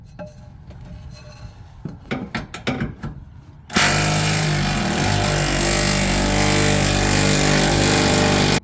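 A power tool loosens 13 mm bracket bolts under a Ford Lightning truck, first a few sharp metallic clanks and short bursts, then a loud, steady whirring drone that runs on close by.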